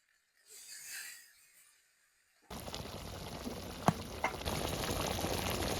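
Eggplant curry for hilsa fish bubbling in a wok, a steady broad simmering hiss that starts halfway through after a brief quiet stretch, with a couple of small clinks over the boil.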